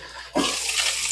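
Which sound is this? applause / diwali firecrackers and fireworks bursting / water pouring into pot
water pouring into pot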